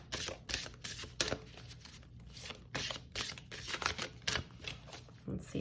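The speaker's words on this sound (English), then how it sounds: "So I'll shuffle it this way." A deck of Soulflower Plant Spirit Oracle cards is shuffled by hand, giving close, quiet bursts of papery rustling and flicking in an uneven rhythm.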